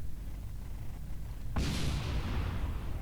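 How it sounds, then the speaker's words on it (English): Rocket exploding in the video game Kerbal Space Program, a sudden loud boom about halfway through that follows a low rumble and decays into a roaring, crackling tail. "There's some of our rocket exploding there."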